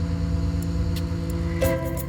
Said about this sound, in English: That's the hydraulic cylinders pushing the boom arm up into the sky.